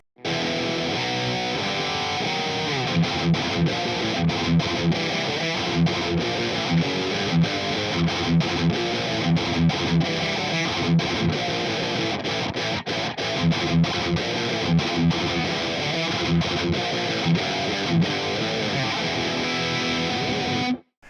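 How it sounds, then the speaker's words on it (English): Electric guitar through an Orange Super Crush 100 amp with overdrive boost and an effects loop, playing dense, aggressive distorted metal riffs that stay loud and continuous throughout with no voices. "that really is a cool sound, just using the overdrive and the EQ and the effects loop and so forth"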